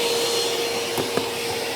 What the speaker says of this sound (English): You can also vacuum your car with it.